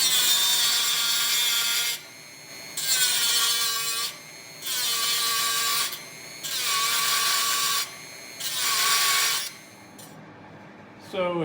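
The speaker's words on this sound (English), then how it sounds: "So we're going to cut that out with a Dremel tool." Dremel rotary tool cutting out a section of a DIY electronics enclosure, heard as five steady high-pitched whining bursts of about a second each, separated by short pauses, close and loud with no talking.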